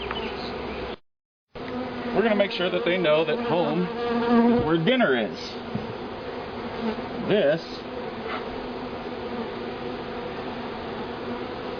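Honeybees from a newly hived, weakened package buzz continuously in a dense, steady drone close by, while a person talks over the humming swarm.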